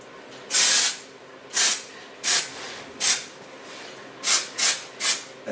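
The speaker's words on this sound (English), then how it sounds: "Spray this between the hair, on moist hair." Dry shampoo sprays onto moist hair in short hissing aerosol bursts, about seven in all: one longer blast, then a string of quick puffs with brief pauses between them, close and fairly loud.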